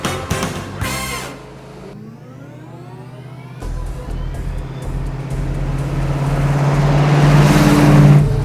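A 1971 Ford Mustang Boss 351 drives off, its engine note climbing steadily louder and rougher with a deep rumble over about eight seconds, close to the listener, with no talk.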